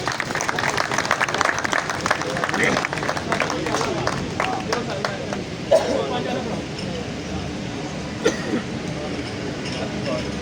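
Audience applause for a senior qawwali performer at an award stage event, a dense, steady wash of clapping running throughout with a couple of sharper claps standing out, fairly loud and near.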